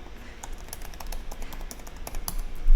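Rapid typing on a computer keyboard while logging into a membership website, a steady run of close, crisp key clicks with no talk.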